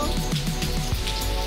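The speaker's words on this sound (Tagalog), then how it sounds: "Sinalubong ako ng ulan guys." Steady rain falling outdoors in Singapore, a dense continuous patter of drops on surfaces throughout, with faint tonal background hum and no talking.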